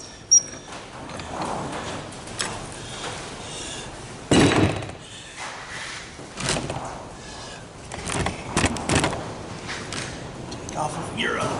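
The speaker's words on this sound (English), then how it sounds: "Take off your pipe clamps" Pipe clamps being loosened and taken off a wooden board while building a trailer tailgate: scattered metallic clanks and knocks, a few sharp hits, and sliding scrapes spread across the stretch, with a voice speaking at moments.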